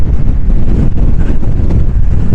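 Strong coastal wind on Portugal's Fisherman's Trail buffets the microphone with loud, rumbling, low gusts that never let up.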